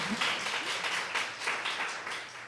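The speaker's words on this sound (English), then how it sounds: "Big cheer for that." An audience cheers and applauds for guests being introduced on stage at a live women-at-work event in New York; dense, steady clapping with whoops carries through the whole stretch without a break.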